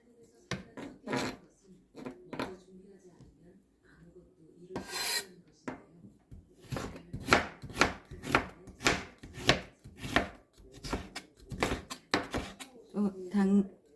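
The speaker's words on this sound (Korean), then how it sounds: "채를 썰고 있습니다." Knife on a cutting board slicing vegetables into thin strips for shiitake mushroom japchae, with sparse taps at first building into a quick, steady run of close, crisp chops, and a voice talking at times.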